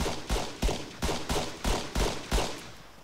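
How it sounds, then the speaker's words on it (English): Rapid bursts of gunfire in an Arma 3 firefight, roughly seven sharp shots spaced evenly about every half second, loud and close with short reverberant tails, no voices. "seems like there's a nice firefight here"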